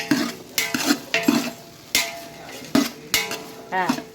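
A metal spoon stirs grated coconut into okra aviyal in a pan, with repeated close clinks and scrapes against the metal in an irregular rhythm, with a faint sizzle underneath.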